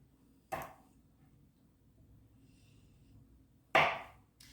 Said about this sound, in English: Now I've cut all the ends off the peppers